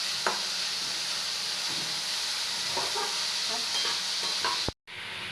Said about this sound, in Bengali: পেঁয়াজটাকে বেশি লাল করে ভাজা যাবে না